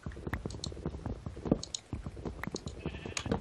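Sheep in the video game Minecraft bleating several times in quick succession, with clicking and small squishy game sounds between the calls, fairly close and clear.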